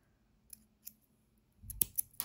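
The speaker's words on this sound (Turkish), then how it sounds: "Şöyle bir kilitledikten sonra da kesiyorum." Scissors cutting crochet yarn, a couple of faint soft snips followed by a louder, closer cluster of crisp metallic cuts near the end, with no voice.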